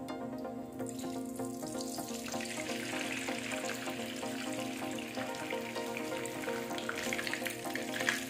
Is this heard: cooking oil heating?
yes